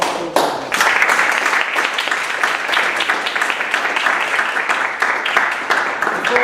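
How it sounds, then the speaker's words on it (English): A Toastmasters club audience gives a round of applause to a speaker at a meeting: dense, steady clapping from many hands that starts after a brief pause and continues loud and unbroken throughout. "you deserve a round of applause for wonderful time"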